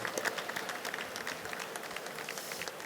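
An audience at a talk on regularity rallying gives sustained applause, a dense wash of many hands clapping together, steady and fairly close, with no voices standing out above it.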